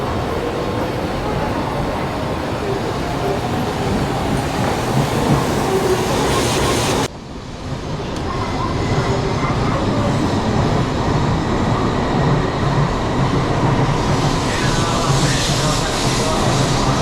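A Shinkansen bullet train rumbles loud and steady at Nagoya station for the whole stretch, its broad roar briefly dipping and then building again partway through.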